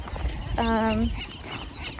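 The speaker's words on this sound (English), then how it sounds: "a lot of birds, very loud as you can hear them." A single loud nesting seagull calls close by on Anacapa Island, one drawn-out nasal cry lasting about half a second above wind and outdoor noise.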